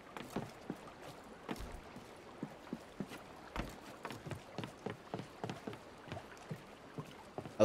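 Footsteps on wooden planks in Assassin's Creed Unity, a steady run of light, evenly spaced thuds over a faint stormy-night ambience, close and fairly quiet, with no talking.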